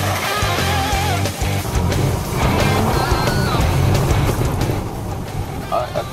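Off-road vehicle on brand-new Cooper Discoverer AT3 all-terrain tires rolling over sand and wet gravel, a steady loud roar of engine and tire crunch with road noise throughout.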